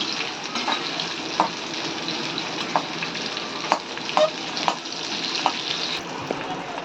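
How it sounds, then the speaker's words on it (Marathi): Chopped onion fries steadily in oil in a pan for Maharashtrian shev bhaji, a continuous close sizzle with a few sharp crackles and spatula clinks scattered through it, no talking. "कांदा भाजून घेणार आहे जरा. कांदा थोडासा लाल झाला पाहिजे."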